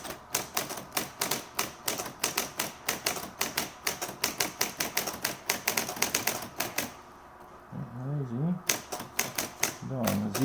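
A Brother JP-4 Signature 812D electric typewriter clatters through a fast run of sharp, regular keystrikes, pauses briefly with a motorized whir, then resumes striking keys close and loud.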